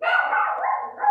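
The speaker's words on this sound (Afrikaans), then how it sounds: "dis net my hond wat blaf" A house dog gives a close, loud, sustained bark-whine lasting about a second, rising again at the end, with no talking.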